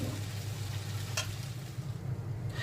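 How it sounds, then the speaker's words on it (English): Potatoes fry in a pan with a soft, steady sizzle and low background rumble, one brief sharper crackle partway through; quiet and with no talking. "add the potatoes, and you fry these for about 5 minutes so they're golden brown"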